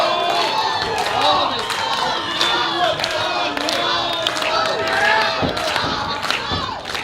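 A crowd at a live pro wrestling event roars and cheers continuously, with shouts and whoops rising and falling in a dense, loud wash of voices.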